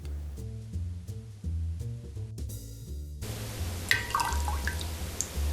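Luxardo Maraschino cherry liqueur trickles from the bottle into a bar spoon for a cocktail, making a brief, faint dripping pour that follows a stretch of background music.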